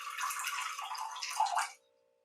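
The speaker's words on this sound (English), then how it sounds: "So we're also going to put some water in here, which will help give us some extra liquid." Water pours into a bread dough mixture in a home kitchen, a close steady splashing trickle for under two seconds that stops abruptly, leaving silence.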